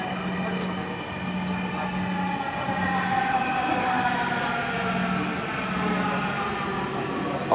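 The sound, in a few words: metro train passing on the other side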